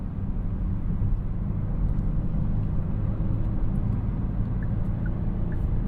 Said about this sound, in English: Gonna go onto the highway now, see what it's like while we're in motion going up to speed